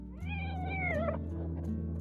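A cat lets out a single drawn-out meow, close and clear, over a steady low hum.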